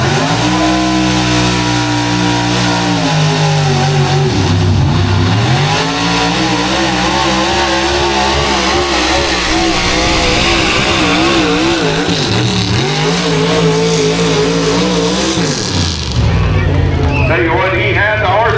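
A pulling truck's engine at a county fair truck pull revs loud and continuous for the whole stretch, with the pitch sweeping up and down through repeated surges, then cutting off near the end as a crowd murmurs and talks in the background.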